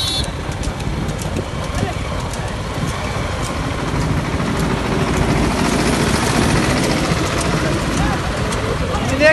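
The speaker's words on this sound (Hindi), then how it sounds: "एक ट्रैक्टर हो रहा है ना उनका निकल जाने दे" A tractor engine rumbles past on a road, a loud low drone that swells toward the end as it passes, with people talking over it throughout.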